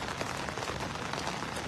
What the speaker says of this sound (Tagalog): Malakas yung ulan dito mga idol